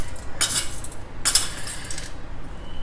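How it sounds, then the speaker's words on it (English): Dry urad dal and channa dal tumble into a pan in two brief rattling pours about a second apart, with a light metallic clink, near and alone without talk. "I am adding 2 heaped teaspoons of Urad dal, 2 teaspoons of Channa dal"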